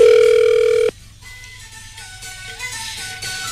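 A telephone ringback tone sounds during a call-in on a Taiwanese pop radio station: one steady, loud electronic tone lasting under a second, which cuts off abruptly as upbeat festive music takes over.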